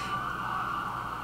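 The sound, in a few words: sirens going off outside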